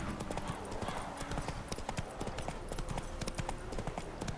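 Horse hooves clip-clop steadily over ground in The Witcher 3 video game, a close run of rhythmic hoofbeats under a continuous game soundscape.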